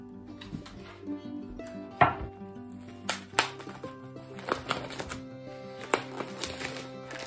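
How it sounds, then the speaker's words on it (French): A knife cuts beef cubes on a board in a kitchen, making scattered close taps and soft knocks at an irregular pace, with faint background hum and a few light clinks. "je vais commencer par couper les cubes de bœuf"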